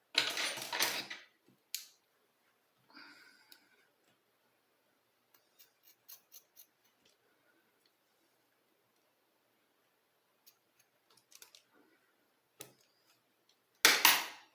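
Scissors trimming yarn on a crocheted amigurumi donkey, a few quiet close snips scattered through near silence.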